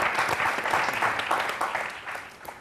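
Studio audience at a Greek television tribute show clapping, a dense burst of applause that fades gradually over a few seconds, heard alone.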